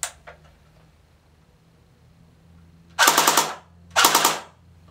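A CYMA CM050 AK airsoft gun fires two short full-auto bursts with blowback action, rapid loud mechanical rattles about a second apart after a quiet stretch with a few faint clicks.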